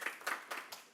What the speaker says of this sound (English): And with that, yes, we can clap.